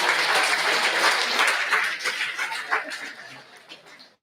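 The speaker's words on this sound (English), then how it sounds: "if you can please give them a round of applause" An audience breaks into a round of applause, with dense clapping and a few chuckles that peak early and then trail off over a few seconds.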